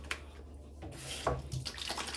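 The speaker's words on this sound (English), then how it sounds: "Cold water." Cold water runs from a bathroom tap during a rinse after a wet shave, giving a brief, close splashing flow of about two seconds with no speech.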